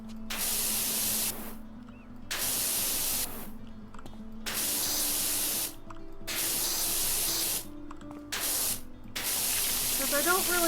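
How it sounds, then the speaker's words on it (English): A pressure washer sprays in the PowerWash Simulator video game, a loud hissing jet that starts and stops in about six long bursts with short silent gaps between them. "Even if they look clean, they're getting a spray just in case."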